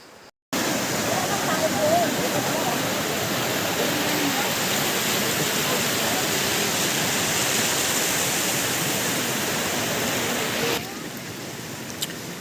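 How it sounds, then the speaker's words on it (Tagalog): A steady, loud rush of falling water from a waterfall fed by a creek in Nueva Era, Ilocos Norte, forms a constant dense roar close by, briefly dropping in level near the end. "tubig sa baba, yun ang falls."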